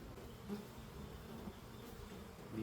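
Honeybees hum and buzz in an open hive during an early summer inspection, a dense, continuous drone, fairly faint, with a few individual bees passing close.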